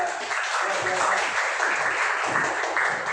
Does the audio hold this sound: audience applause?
yes